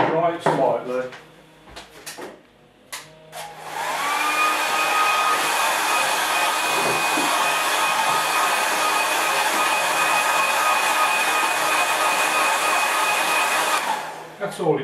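A few clicks and handling knocks come first, then a hair dryer switches on and blows a steady, loud whooshing whine over a watercolour painting for about ten seconds before shutting off.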